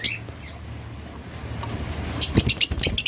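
Pet lovebirds, cockatiels or budgerigars call from their cages, giving a few scattered chirps over faint background noise and then a burst of rapid, shrill squawks near the end.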